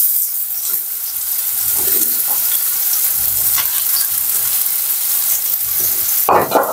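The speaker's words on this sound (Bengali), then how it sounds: "পেঁয়াজটা ঢেলে নিচ্ছি।" Onions poured into hot oil for an egg curry, frying with a steady loud hiss and sizzle while being stirred, close up, with a brief clatter near the end and no talking.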